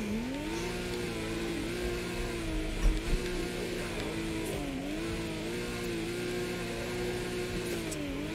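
A stock, untuned car engine in the drift racing game Torque Drift hums and revs steadily, its pitch rising and falling in slow waves, continuous and fairly loud with no voices.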